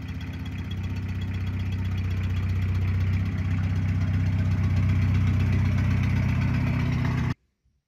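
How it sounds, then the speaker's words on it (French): A Citroën C15 engine runs steadily for several seconds, run up to check that the turbo spins, giving a loud, close, even low drone that rises slightly and then stops abruptly. "J'ai envie de voir si le turbo il tourne."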